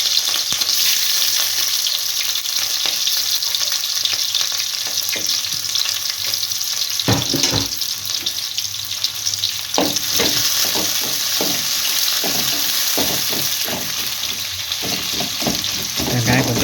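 Onions and green chillies with urad dal frying in a pan for avial, a loud continuous sizzle with bursts of spatula stirring and scraping in the second half, no speech.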